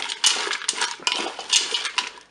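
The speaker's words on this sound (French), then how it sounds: "Ensuite je mélange un petit peu." A utensil stirs frozen sautéed potatoes in a Cookeo pot, producing a few close, bright scraping and clattering bursts of metal and crisp pieces, with short pauses between strokes.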